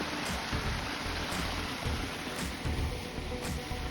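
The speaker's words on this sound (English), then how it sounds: "waterfall's looking pretty." Steady broadband rush of a waterfall over a winter stream near ice, continuous and fairly faint, heard alone with a few light knocks.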